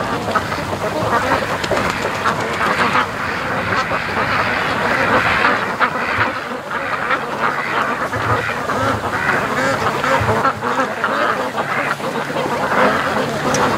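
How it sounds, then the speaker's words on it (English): A flock of ducks quacking loudly and continuously, agitated by nearby seagulls, dense overlapping calls close by with some honking mixed in. "And that is freaking the ducks out."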